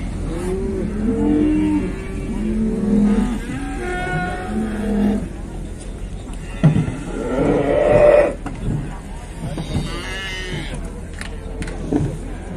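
Calves at a cattle market in Beylagan low and moo in several drawn-out calls, mixed with nearby human voices and general market bustle.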